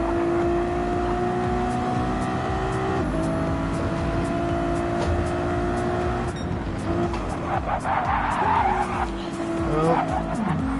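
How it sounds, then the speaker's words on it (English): A race car on a circuit slides wide in understeer on fresh, cold tires, engine droning steadily with harmonic whine before tires squeal and scrub loudly toward the end, continuous and close. "Big slide and understeer for Deltone"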